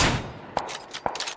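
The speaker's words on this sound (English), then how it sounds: "I just called a 391 meter shot" A long-range rifle shot in PUBG opens with a loud blast that decays into a fading tail, followed by several sharp distant cracks and clanks.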